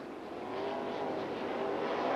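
Sprint cars race on a dirt speedway, a distant continuous engine roar building slightly as the pack passes, with no voices over it.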